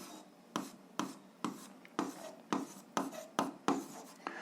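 A pen writing out a seventh-grade algebra solution by hand, in a quick rhythmic series of about nine short scratchy strokes, each with a sharp onset, close and clear with no talk.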